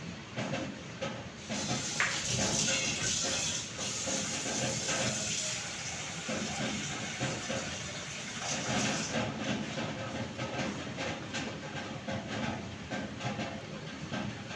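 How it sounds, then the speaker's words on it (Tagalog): Water pours steadily onto pork in a cooking pot for adobo, a continuous close rushing fill that runs alone for the whole stretch. "so lagyan na natin ng tubig ang ating meat."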